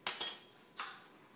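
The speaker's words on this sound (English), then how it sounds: "I keep stirring it because the cocoa sinks to the bottom." A spoon clinks sharply against the side of a cup while stirring espresso mixed with cocoa, with two quick close taps and then a softer third.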